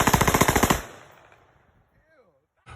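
Celebratory 5.56 rifle fire shot into the air, heard as a loud, close rapid burst of about a dozen evenly spaced shots that ends abruptly, leaving a fading echo and near silence.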